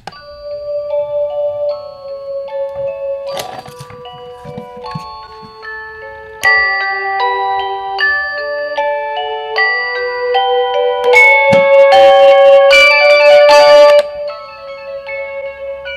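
A modern color-changing alarm clock plays its melodic alarm tune at its low volume setting, a chiming sequence of clear tones that grows busier partway through before easing back.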